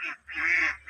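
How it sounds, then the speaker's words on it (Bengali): Domestic ducks on a farm in Laos quack loudly and close by, two harsh honking calls in quick succession, with no talk over them. "দেখছেন কত হাজার হাজার হাজার হাজার হাঁস"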